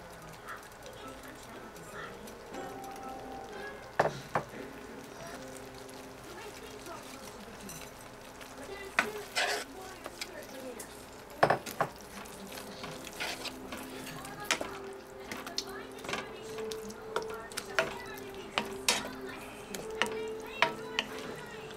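Sweet and sour sauce of vinegar and brown sugar simmering in a pan, with a steady low bubbling broken by occasional clinks and stirring knocks, heard close up under a faint talking voice.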